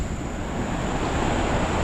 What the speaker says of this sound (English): Man, I can hear this waterfall roaring.